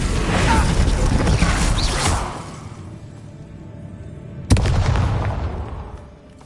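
A Confringo blast spell goes off in Hogwarts Legacy as two loud, booming explosive bursts: the first a rumbling roar that fades over about two seconds, the second a sharp crack followed by a decaying rumble.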